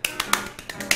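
A man claps his hands several times on his own, giving sharp, uneven, close-up claps with short gaps between them during a tennis video game.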